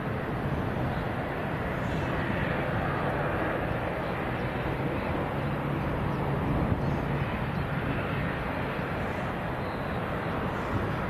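An Aer Lingus ATR turboprop airliner departs Leeds Bradford Airport for Belfast, giving a steady, even engine roar that holds at the same level throughout.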